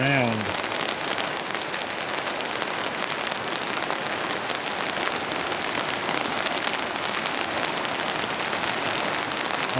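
Steady rain pours down onto an umbrella and the ground around a fallen myrtle tree, a dense, continuous hiss of drops with no pauses.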